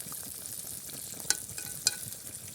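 Scrambled eggs sizzle faintly in a pan over a solid-fuel camp stove in a forest, a soft continuous frying hiss with two small scraping clicks from stirring.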